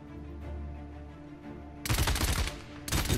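Rapid automatic gunfire from the Paladins PS4 beta shooter bursts in suddenly after a quiet hum, a sustained rattling volley followed by a second short burst.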